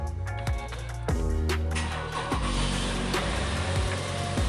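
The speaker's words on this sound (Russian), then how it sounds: "Попробуем завести эту малышку." A 2009 Lexus RX 350 with a 3.5-litre engine cranks and catches, its loud starter whir giving way to a steady rumbling idle with a few sharp knocks and revs close by, no voices.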